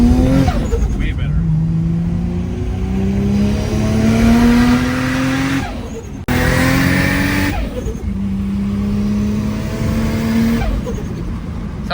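Right-hand-drive Toyota Supra with a 2JZ engine on an Ecumaster Black standalone tune, revving hard while driving: loud rising engine pitch through two gear pulls with a brief shift gap, close and aggressive, with voices talking underneath.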